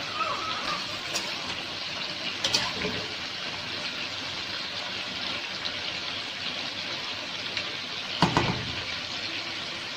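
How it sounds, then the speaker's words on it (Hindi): Beef koftas deep frying in hot oil, giving a steady bubbling sizzle throughout with a few brief louder spatters, close by with no talking. "कोफ्ते हमारे फ्राई हो चुके हैं"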